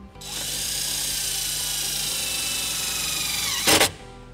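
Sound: power drill driving self-tapping screw into sheet metal

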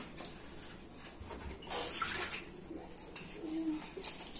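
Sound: washing dishes with water

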